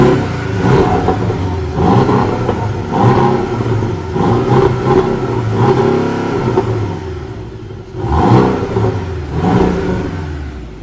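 A Porsche engine revving repeatedly from inside the car, loud close surges of engine roar rising and falling several times in quick succession, with no talking over it.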